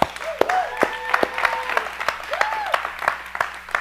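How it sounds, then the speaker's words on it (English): Seminar audience clapping for several seconds in scattered bursts, with voices calling out over the claps. "Clap it up."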